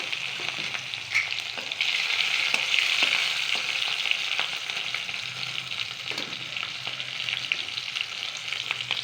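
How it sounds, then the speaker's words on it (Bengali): Nigella seeds, tomato and green chili fry in mustard oil, giving a loud, steady, close sizzle throughout, with occasional light stirring clicks and no voices. "কালো জিরা ফোড়ন দিলাম, টমেটো, কাঁচা লঙ্কা"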